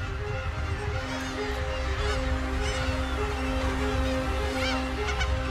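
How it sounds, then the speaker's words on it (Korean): Black-tailed gulls gather and call off the rocky islets of Dokdo, scattered squawks and cries rising over a steady low hum and sea noise, no voices. "그런데 갑자기 괭이 갈매기들이 모여듭니다."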